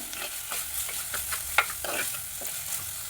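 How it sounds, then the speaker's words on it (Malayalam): Shallots, green chillies and curry leaves sauté in hot oil for a fish curry, a steady sizzle broken by repeated scraping stirs of a spoon against the pan, one sharper clack midway, no speech. "ഇതെല്ലാം ചെറുതായിട്ട് ചുമന്ന് വരുന്നത് വരെ ഒന്ന് വഴറ്റാം."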